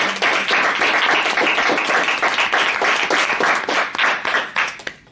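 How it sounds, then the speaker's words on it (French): Applause from a Toastmasters meeting audience in a room, brisk close clapping from a modest group that holds steady and then thins out and fades near the end. "Elle mérite notre applaudissement."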